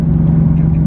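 Engine of a 2024 Ford Mustang with a throttle controller, a loud steady low drone heard from inside the car for under a second.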